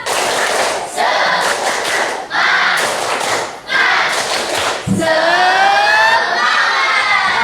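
A class of vocational school students performs a spirit clap chant in bursts of unison clapping and shouted syllables, separated by brief pauses, ending in a loud group cheer that rings out.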